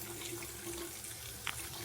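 Tap water runs steadily into a container as a little water is added on wash day, a soft continuous flow with a couple of brief splashes near the end.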